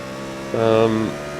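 A Daytona prototype race car in the iRacing simulator at Barber Motorsports Park sweeps past with a loud, steady engine drone that rises suddenly, holds for about half a second, then cuts back under a low background hum.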